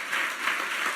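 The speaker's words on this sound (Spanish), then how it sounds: "Dale ese fuerte aplauso al Rey." A church congregation claps in a dense, steady burst of applause that fills the whole short moment at moderate volume.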